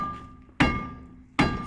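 Two sharp metallic hammer blows ring out about 0.8 seconds apart while someone works under a BMW drift car, each strike loud and close with a short ringing decay and no talk.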